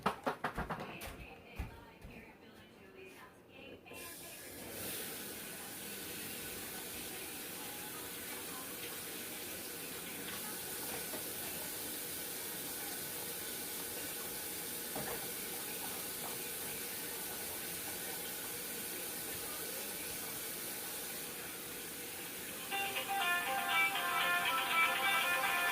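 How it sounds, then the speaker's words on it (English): Running tap water splashes steadily at a sink during handwashing in a home kitchen, a constant moderate hiss that grows slightly louder and brighter near the end. "Let me go wash my hands"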